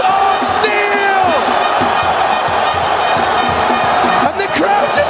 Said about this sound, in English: And the crowd just erupts.